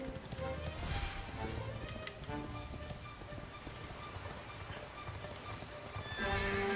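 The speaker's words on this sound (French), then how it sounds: "Saut à cheval, à cheval, à cheval." A horse gallops and neighs in the video game Dragon Quest XI, rapid clip-clop hoofbeats under game music with a clear whinny near the end.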